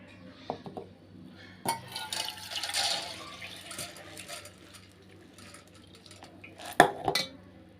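Water splashes and trickles out of a vessel as it is drained from soaked sorghum, with dishes clinking and a couple of sharp metallic knocks near the end, close by and without talk.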